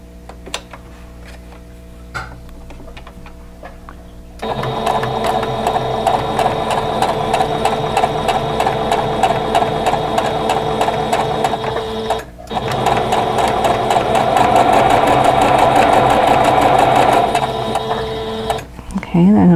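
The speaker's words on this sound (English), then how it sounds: "So I'm going to sew it on this side." A sewing machine sews a quilt block seam with a close, rapid rhythmic whirring and ticking that runs steadily with a short pause midway, after a few seconds of quieter handling at the start.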